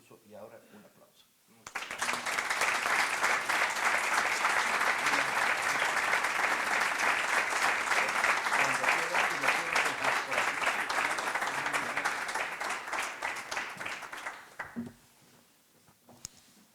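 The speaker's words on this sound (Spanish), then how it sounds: "y ahora un aplauso" An audience at an academy induction ceremony breaks into sustained, even applause that swells quickly, holds steady for roughly thirteen seconds, then fades. A few faint sounds come before and after it.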